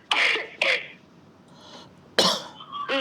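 A person coughs several times in short, harsh bursts, close and fairly loud, with a quieter rasp between them.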